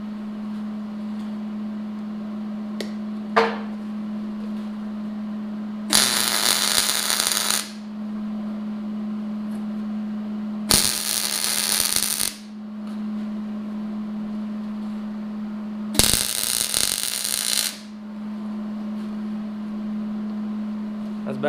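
MIG welding without shielding gas on a steel bolt-on receiver hitch for a tractor bucket: three loud crackling bursts of about a second and a half each, separated by pauses, over a steady electrical hum.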